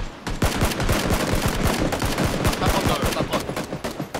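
Rapid automatic gunfire in the PUBG battle royale squad match, aimed at an approaching car, rattles steadily and loudly through the whole stretch as dense repeated shots with little pause and no talk.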